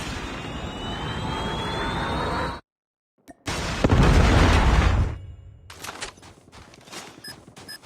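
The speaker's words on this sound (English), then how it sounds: "Predator missile inbound." In the Call of Duty video game, a Predator missile strike blasts in with a deep, booming explosion after a jet-engine roar cuts to brief silence, followed by a rumbling tail and scattered crackles of gunfire.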